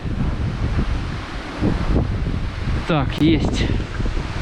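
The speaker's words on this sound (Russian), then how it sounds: "Ох, и ветрюган" Strong, gusty wind buffets the microphone outdoors during a stormy October flat-feeder fishing session, a continuous broadband roar under a man's brief words.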